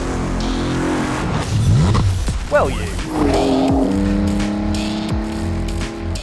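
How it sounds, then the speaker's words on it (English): The Gemballa Marsien, a 750 hp off-road Porsche 911, drives hard with a loud, steady engine drone, shifting revs and a burst of tire noise, close up, while a voice speaks briefly. "This is the Marc Philipp Gemballa Marsien, a 750 brake horsepower, very specific take on what it means to be an off-road Porsche."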